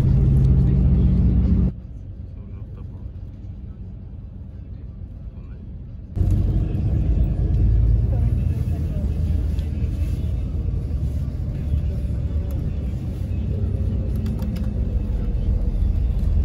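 Steady low road rumble from inside a car heading to the airport in the Italian countryside near Rome, loud and continuous, dipping quieter for a few seconds before the engine and tyre noise swell back.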